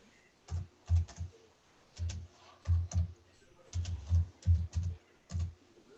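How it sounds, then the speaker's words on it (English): Someone types an email address on a computer keyboard, nearby keys clattering in irregular bursts of several strokes with short pauses between them. "I'm just typing up my address in email for Saigon."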